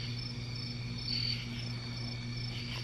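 Crickets chirp near woods at night in a creepy forest, a steady layered high trilling at moderate distance, continuous with slight swells and no voices.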